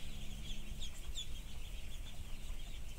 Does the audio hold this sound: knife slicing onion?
no